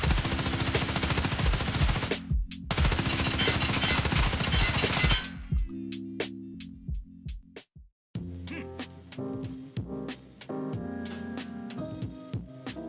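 Gunfire in Escape from Tarkov, loud sustained automatic bursts of rifle fire, then a pause followed by scattered single shots and short bursts with ringing echoes and game sounds between them.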